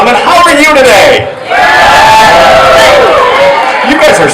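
A large crowd at a Pierogi Fest song festival cheers and shouts loudly and continuously, with a brief dip before the roar swells again and holds.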